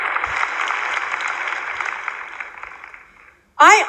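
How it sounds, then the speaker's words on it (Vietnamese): Seminar audience applause, a dense burst of clapping that gradually thins and fades out over about three seconds, followed by a brief loud voice. "Các bạn hãy cho một tràng pháo tay."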